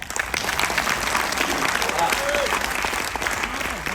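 Loud, continuous audience applause at a Hindi comedy show, dense clapping that fills the whole stretch with a few faint voices mixed in.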